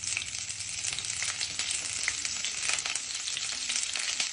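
Cauliflower frying in a pan of hot oil with panch phoron spices, cooked alongside aubergine in a home kitchen: a steady, dense, close sizzle running throughout with no talking.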